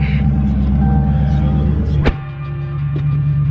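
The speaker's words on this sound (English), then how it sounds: "Beautiful rumble. I do have a muffler delete." A Dodge Challenger Scat Pack with a muffler delete rumbles at idle, a deep, loud, throbbing exhaust note nearby with a sharp click partway through, then a slightly quieter, steady rumble.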